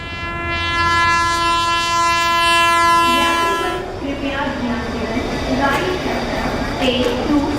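A train horn blares loudly for several seconds, then gives way to the clatter and rumble of railway cars, with voices talking over the noise.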